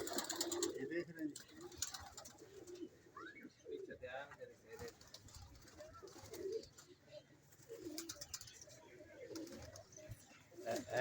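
Pigeons coo at a pigeon keeper's loft in Lahore, Pakistan, soft low throaty calls repeating faintly among light chirps, with people talking quietly over them.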